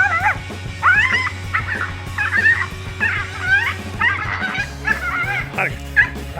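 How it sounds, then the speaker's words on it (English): A tiny dog barking at a tegu lizard: close, high-pitched yips and whimpering cries repeating in quick bursts over a low, steady droning background. "A tiny dog quickly regretted messing with the tegu lizard when it suddenly had enough of its annoying barking"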